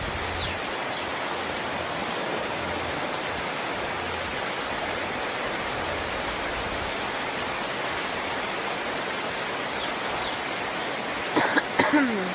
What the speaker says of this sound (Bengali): ঘুম থেকে উঠে বৃষ্টি।